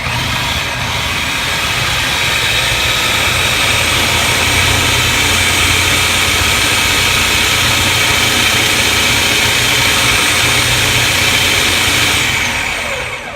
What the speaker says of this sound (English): This is a food processor, but it blends also.